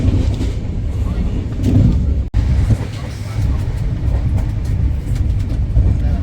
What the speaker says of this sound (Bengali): ট্রেন বিশাল জোরে যাচ্ছে।